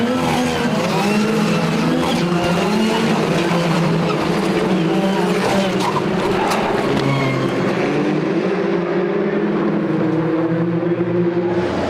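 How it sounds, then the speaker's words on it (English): Loud, continuous roar of many open-wheel race car engines idling and revving together on the starting grid, with pitch rising and falling in a dense, steady wall of sound. "Engine notes rise, we wait for the lights to turn on."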